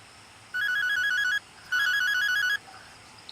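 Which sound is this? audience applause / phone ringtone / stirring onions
phone ringtone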